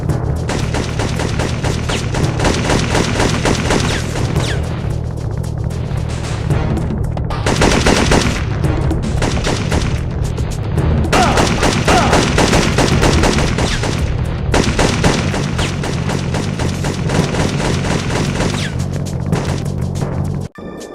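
Rapid bursts of sniper and automatic gunfire in the PS1 shooter Syphon Filter 2, loud and nearly continuous over about twenty seconds with sharp repeated cracks and brief lulls, no talking.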